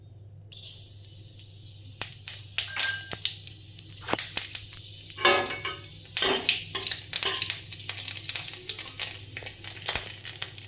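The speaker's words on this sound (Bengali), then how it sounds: "কড়াতে পাঁচ ফোড়ন দেবো" Panch phoron spices hit hot oil in a wok, giving a crackling sizzle with sharp pops and spits that come in irregular bursts, close and fairly quiet, alone with no voices.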